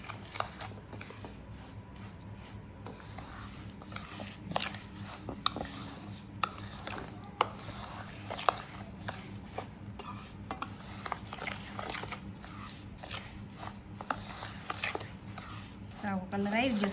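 Mango pickle mixture being stirred in a pot: repeated scraping and clacking of a spoon against the metal, a steady, irregular rhythm of moderate loudness, with some talk underneath.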